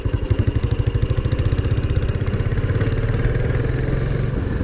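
A 2007 Royal Enfield Bullet 500 Classic, a carburetted single-cylinder bike, thumps loudly and close while being ridden, its even rapid pulses smoothing slightly as the revs rise and then easing off at the end.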